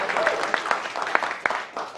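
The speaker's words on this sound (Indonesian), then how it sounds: "Henry Satrio, tepuk tangan" Studio audience applause for a guest on a talk show, steady clapping from a crowd with sharp individual claps poking through, moderately loud, while a host speaks over it.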